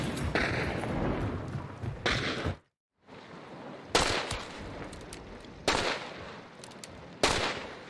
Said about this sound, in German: Ja, Schuss auf mich.